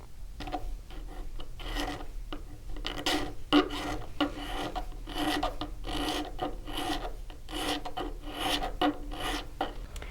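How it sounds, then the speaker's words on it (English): A metal file rasps back and forth inside a stamped metal frame, with steady, close scraping strokes in an irregular rhythm. No voices are heard. "you can take the file inside and also file that also"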